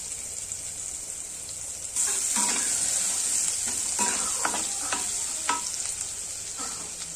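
Crushed garlic hits hot oil in a pan while cooking a pumpkin and puti fish dish, giving a steady loud sizzle that flares up at the start, with occasional stirring scrapes and pops throughout.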